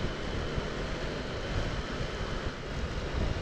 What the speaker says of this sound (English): it is a breezy day today and all